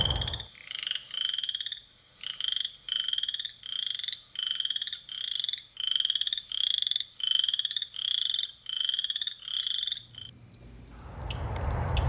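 Chorus frogs calling in a vernal pool produce rhythmic, pulsing trills in regular bursts, about a dozen in sequence, loud and near, before the chorus stops at the end.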